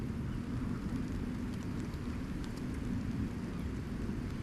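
Steady rain falls outdoors during a field coffee brew, a constant dense patter and hiss with no breaks, moderately loud and close.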